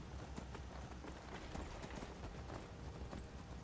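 Horse hooves clip-clop steadily over a constant background bed in the modded Skyrim video game, a fairly loud run of repeated hoof beats lasting a few seconds, with no talk.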